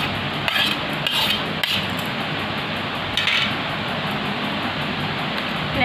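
Chopped cucumber, onion and chili being mixed by hand in a bowl for raita, producing soft wet rubbing and stirring noises with a few light clinks of the bowl, close and steady with no talking.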